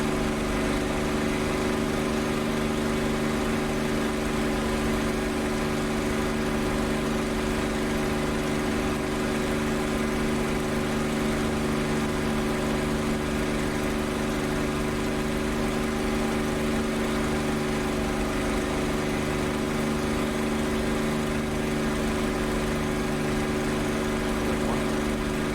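A P-51 Mustang piston engine running steadily in the DCS flight simulator, a loud, constant droning hum with a fixed pitch throughout and no talking over it.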